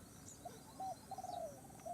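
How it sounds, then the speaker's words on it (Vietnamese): A wild dove coos from forest trees, a few soft, distant hooting calls spaced across a quiet woodland background. "Đây, đâu trong cây này cũng có cu màu hay cu rừng gì nó gáy miếng này."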